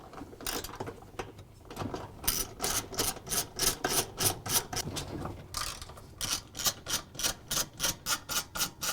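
Ratcheting wrench loosening the half-inch bolts on a Whirlpool washer gear case, rapid rhythmic clicking bursts close up in several runs with brief pauses, loud and without speech.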